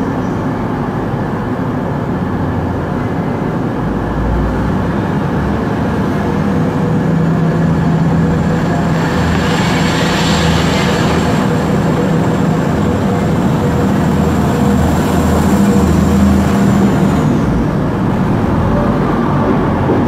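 Arriva Trains Wales unit 175011 stands at Chester station on a Pembroke Dock service, its diesel engine giving a loud, steady low rumble and drone that holds for the whole stretch.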